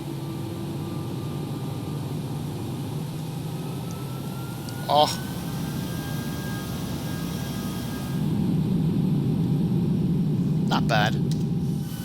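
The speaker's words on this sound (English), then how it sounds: "this is some engine sounds here. Let's pull them up." Engines of a Toliss Airbus A321-200 in the X-Plane 11 flight simulator hum as a steady low drone with a thin whine, growing louder partway through. A voice makes two short remarks.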